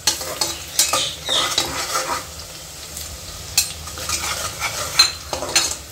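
Cloves, cardamom, cinnamon and cumin fry with onions for mutton biryani, a close, busy sizzle under repeated scraping strokes of a spoon against the pot, with small metallic clinks.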